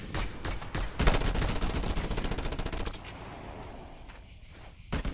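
Rapid automatic gunfire bursts in Just Cause 2, a dense machine-gun-like rattle starting sharply and continuing for several seconds, then tapering off with a final shot near the end.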